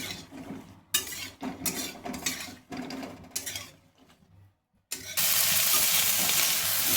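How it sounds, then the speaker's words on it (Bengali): Vegetables tossed into hot mustard oil in a wok, with clattering utensil scrapes and stirring knocks, a short pause, then a sudden loud steady sizzle that continues to the end, close and unvoiced. "এবার এই সব সবজিগুলো আমি একসাথে দিয়ে একটু ভাজা ভাজা করে নেব।"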